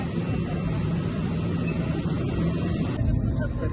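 Inside an airplane cabin, a steady low engine roar and broadband rumble drone continuously, with a faint murmur of voices underneath.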